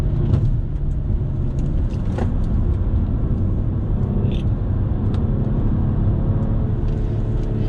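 A BMW M240i driven hard through corners, its engine and tyre roar a steady, loud in-cabin rumble with road noise, no talking over it.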